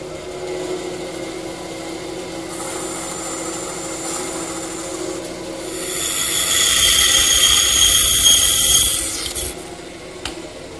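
A saw cuts a shoulder on a wooden tenon for a coffee table stretcher, with the workpiece guided by a miter gauge against the fence. A steady motor hum gives way to a louder cutting roar lasting a few seconds before it dies down.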